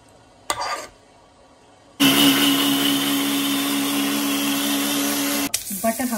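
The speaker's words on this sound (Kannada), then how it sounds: "ಇವಾಗ ಇದನ್ನು ಮಿಕ್ಸಿ ಜಾರ್ಗೆ ಹಾಕೊಳ್ಳೋಣ." After a couple of brief knocks, an electric mixer grinder roars to life, blending cooked tomato masala in its jar with a loud, steady whine for several seconds before cutting off into clattering.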